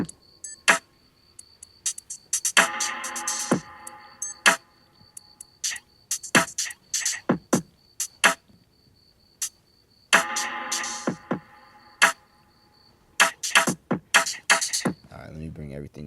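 A hip-hop beat loop with a turnaround section plays sharp drum hits and ticking hi-hats over a steady high tone, with denser fills recurring, moderately quiet and without talking.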